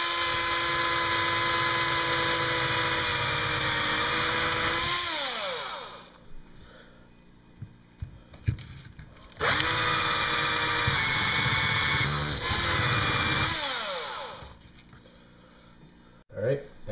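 A loud, high-pitched power drill whines steadily drilling through a board, winds down, pauses with small knocks, then runs again in a second long burst before stopping.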